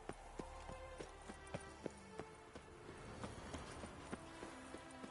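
Horse hooves clatter in a steady, quick clip-clop rhythm during a horse race in The Witcher 3, the beats close and distinct over a low rumble, with no talk.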